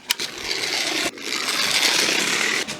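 A Duke Caboom Stunt Racer toy motorcycle from Toy Story pops a wheelie, giving a continuous buzzing motor whir that is loud, close and steady for a few seconds, with brief dips and clicks at the start and end.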